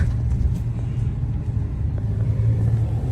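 Car driving along a road, heard from inside as a steady, fairly loud low rumble of engine and tyres with no talk over it.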